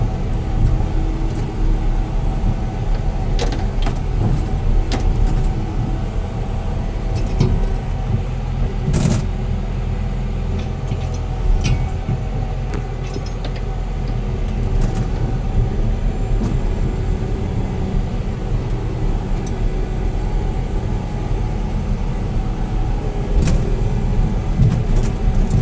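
A Caterpillar D6 bulldozer plows snow on an Idaho backcountry mountain road, its engine a continuous loud, low rumble throughout with scattered clanks and scrapes from the blade and tracks.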